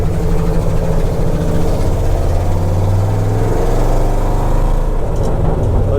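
A Ford F250 Highboy truck, a restored U.S. Forest Service vehicle, drives with a loud, steady engine drone that holds at an even pitch, close and continuous with no voices.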